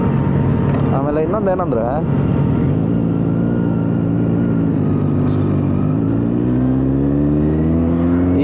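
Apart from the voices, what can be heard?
BMW C 800 motorcycle with Akrapovič exhaust riding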